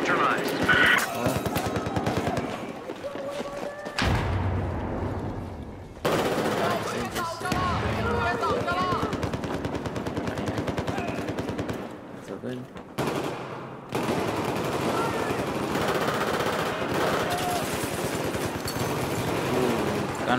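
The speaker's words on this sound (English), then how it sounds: "Gunfight over here, gunfight." Bursts of automatic gunfire and scattered shots from a gunfight in the video game Battlefield 4, with brief pauses between volleys and people talking over the action.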